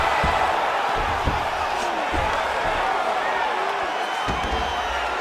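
Arena crowd at an MMA fight roars steadily after an extended grappling exchange, a dense, continuous cheer with a few sharp thuds and whoops rising out of it, loud and sustained throughout.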